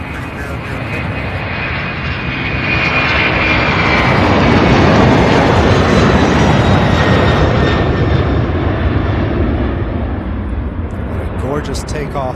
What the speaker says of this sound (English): Gorgeous takeoff.